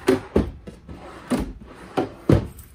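Drawers in a 2019 Wildwood 36BHDS RV kitchen slide open and shut in a series of about six sharp wooden knocks and thuds spaced irregularly over a few seconds, close by, with no talking.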